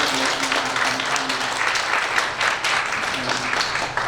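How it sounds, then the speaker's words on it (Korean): A congregation at a Sunday worship service gives a pastor a round of applause, loud sustained clapping from a large crowd filling the hall without pause. "우리 박수 한번"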